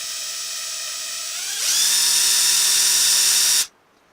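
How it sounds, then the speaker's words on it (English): Power drill boring out a lead bass jig head: a whining motor that climbs sharply in pitch, holds a loud, steady high whine for about two seconds, then cuts off abruptly. "Just going to drill it out."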